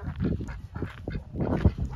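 Geese and ducks honk and quack close by, a steady overlapping chorus of nasal calls.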